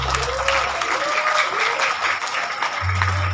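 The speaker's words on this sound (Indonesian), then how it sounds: "Tepuk tangan yang meriah untuk hajatan Betawi kita semua" Crowd at the closing of the third Hajatan Betawi lenong event applauding loudly and continuously, a thick sustained roar of clapping over low hum and faint background tones.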